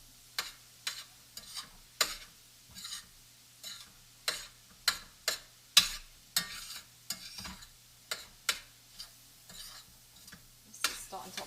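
Vegetable fried rice, grain free, stirred in a pan: a regular series of sharp spatula scrapes and taps, roughly two per second, over a quiet background with little sizzle.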